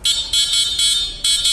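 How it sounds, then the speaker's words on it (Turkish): Horn on a Volta VSM electric bicycle beeps loudly in four bursts of high buzzing tone separated by brief gaps, heard close and alone with no talk. "Sonra bisikletin kontağını açıyoruz ve kornamızı test ediyoruz."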